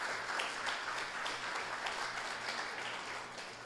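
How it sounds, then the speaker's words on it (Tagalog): Congregation at a Filipino Sunday worship service applauds, steady moderately loud clapping filling the room with a low hum underneath. "Iyan na po ba yung pinaka-the best nating palakpak?"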